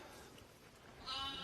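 A lamb in a rare breeds barn gives a single faint, short bleat at the very end, after a quiet stretch of barn ambience.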